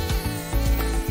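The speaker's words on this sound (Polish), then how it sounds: "Głupi komar." A mosquito whines steadily and close by, a thin continuous buzz with a few low thumps underneath.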